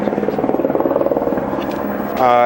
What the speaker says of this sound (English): This damn helicopter has been going nuts now for almost an hour, and it's driving me out of my mind.